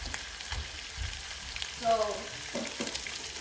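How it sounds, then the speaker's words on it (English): Pork steak browns in a hot pan with a steady, moderate sizzle, joined by brief stirring and clinking noises; a voice speaks briefly. "Because this is pork, I'm browning it like this."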